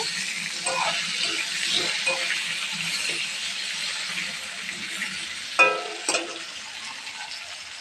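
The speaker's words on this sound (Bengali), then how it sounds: "এদিকে আলুটা ভাজা ভাজা হয়ে এসছে" Potatoes fry in a pan with a continuous hiss of sizzling, broken by a few sharper clatters near the end. A voice murmurs faintly at times.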